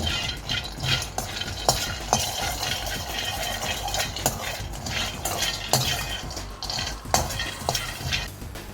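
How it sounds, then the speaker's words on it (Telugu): Peanuts being roasted and stirred in a pan for a capsicum peanut chutney, a steady dry rattling and scraping with frequent clinks of a spoon against the pan, close and continuous with no talking. "ఈ మామూలు మనకి పీనట్లు ఎలా వేయించుకుంటామో అలాగే వేయించుకోవాలి"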